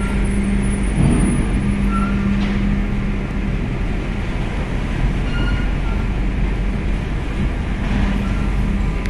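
Heavy Gudang Garam truck driving past at Bakauheni port, a loud continuous diesel rumble with a brief hiss like an air brake near the start and low droning tones throughout, no voices.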